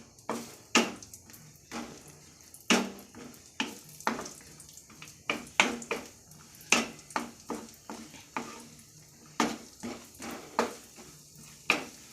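Cashews frying in ghee for carrot halwa, a run of soft sizzling crackles and scraping stirs coming in irregular bursts, close and fairly quiet with no voices.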